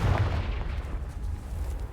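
A Confringo blasting spell explodes in the Hogwarts Legacy video game, a single deep, rumbling boom that starts close and loud, then fades into a low, rolling tail.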